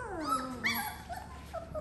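Young Doodle puppies whimper and whine at feeding time around their bowls, giving several thin, rising and falling cries close by.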